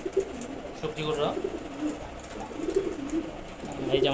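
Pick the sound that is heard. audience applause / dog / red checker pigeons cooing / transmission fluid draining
red checker pigeons cooing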